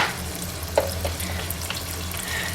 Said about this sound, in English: Now I'm going to add some vodka.